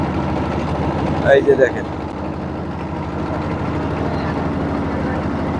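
A trawler boat's engine drones in a low, steady rumble throughout, while a person speaks briefly over it.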